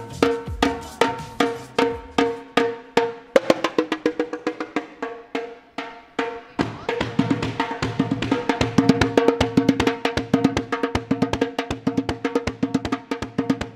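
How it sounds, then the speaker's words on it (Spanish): A roconga gitana, a Gypsy percussion instrument, is struck in a quick, steady rhythm of bright metallic hits with ringing tones, loud and close, speeding into denser strikes toward the end, with no voices. "tiene este instrumento que es la roconga gitana."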